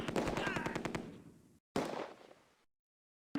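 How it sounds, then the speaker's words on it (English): Rapid machine gun bursts from the video game Close Combat, set during Operation Market Garden, rattle loudly in two long volleys of fast repeated shots, each tapering off into a fading echo, with a brief silent gap between them. "We're under heavy fire. We're pinned down."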